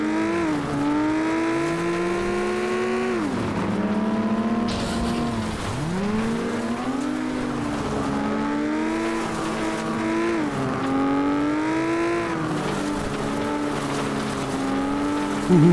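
Racing car engine in the FlatOut video game roars continuously, revving up and down through gear shifts with rising and falling pitch, loud and close throughout.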